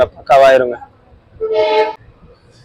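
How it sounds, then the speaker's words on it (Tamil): A passenger train on the Trichy to Rameswaram line arrives at a station platform, sounding two loud horn toots about a second apart while someone speaks nearby. "பிளாட்ஃபார்ம் நம்பர் 2ல நம்ம ட்ரெயின் வந்திருக்குங்க."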